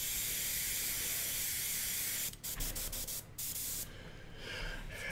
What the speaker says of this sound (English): when you're airbrushing white, you want to make sure it's very thin.